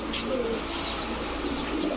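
Gola pigeons coo softly in a loft amid steady background noise, a few low murmuring coos heard fairly close over constant hum.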